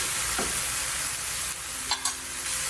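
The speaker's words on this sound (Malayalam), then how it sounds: "ഈ ചില്ലി ഫ്ലേക്സും കൂടി ഇതിനകത്തേക്ക് ഇട്ട് കൊടുക്കുകയാണ്." A Manchurian mixture of spinach, carrot and cabbage sizzles steadily and loudly in a hot pan as chili flakes go in, with a couple of light scrapes and no voices.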